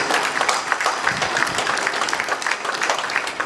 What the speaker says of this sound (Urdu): تالیاں بعد میں بجائیے